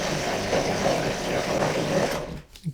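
A blender whirs steadily while chopping fermented chillies for hot sauce, a close, continuous motor drone that cuts off abruptly near the end.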